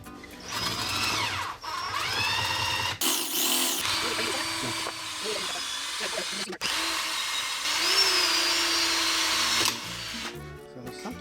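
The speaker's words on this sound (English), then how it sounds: "I'm gonna drill up this, I'm drilling this way so shavings don't go in." A power drill whines in repeated bursts, pitch rising and falling as it bites into the metal of a car's power steering reservoir, with brief pauses and faint clatter between runs.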